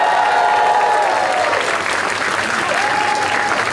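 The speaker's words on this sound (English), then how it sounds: "can we get a round of applause for our bar and wait staff tonight?" Comedy club audience breaks into steady, loud applause that fills the room for several seconds, with faint voices and a whistle-like tone mixed into the clapping.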